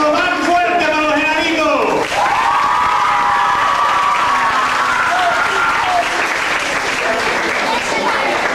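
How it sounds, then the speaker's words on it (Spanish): Loud applause and cheering from a large audience at a Snow White stage show fill the space continuously, with excited shouts and a voice rising through the noise. "un aplauso más fuerte para los"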